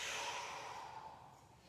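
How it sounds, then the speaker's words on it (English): Deep breathing during a power yoga stretch: one long, soft, airy exhale that fades gradually, close and quiet, with no talk. "Deep breaths, last 2 deep breaths here."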